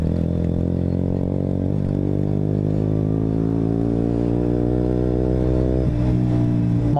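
A KTM RC125 motorcycle on the move, its small single-cylinder engine buzzing loudly and close, the pitch climbing through gears with shifts near two and six seconds.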